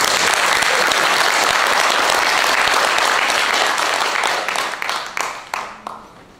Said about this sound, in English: a round of applause for these two speakers.